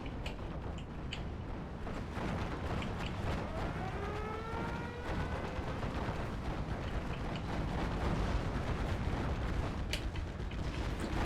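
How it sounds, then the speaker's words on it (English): Artillery duel in the war game Steel Division Normandy 44, a dense rumbling barrage of distant booms and blasts under a continuous low roar, with a whistling incoming shell sweep partway through. "Such a bloody artillery duel."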